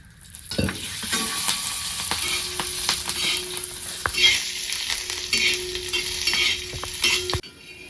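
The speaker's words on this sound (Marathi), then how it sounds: "हिरवी मिरची आणि लसूण पण भाजण्यासाठी टाकून घेतलेलं त्याच्यात मी थोडंसं तेल ओतून घेणार आहे" Loud, continuous sizzling as green chillies and garlic fry in a little oil, with a few metallic scrapes and clinks from a pan.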